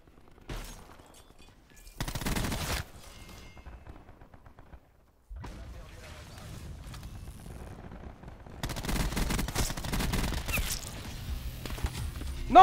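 Gunfire in the video game Black Ops 4: bursts of rapid automatic fire spaced across the stretch, with pauses, thuds and a louder sustained barrage near the end, heard close with no talking.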